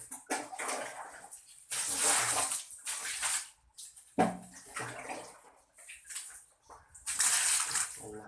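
Water splashing and pouring in bursts while a school bathroom is being washed, close and uneven, with gaps between throws.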